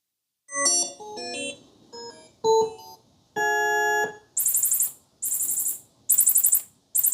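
Sony Bravia Theater 7 soundbar running room calibration in a living room: a string of tonal beeps and chords, followed by four loud, bright, sweeping chirps evenly spaced, with no talking.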